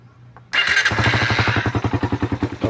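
A Suzuki Raider motorcycle with a faulty regulator, just serviced with fresh oil, fires up abruptly and settles into a loud, noisy idle with a steady, rapid pulsing beat that grows choppier toward the end.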